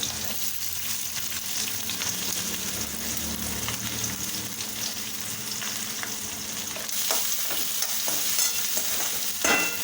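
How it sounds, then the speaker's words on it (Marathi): Cumin seeds and onion frying in hot oil in a home kitchen, a steady close sizzle with occasional stirring scrapes and crackles, no talking. "तेल आपलं गरम झालेलं आहे मी त्याच्यात जिरं टाकते"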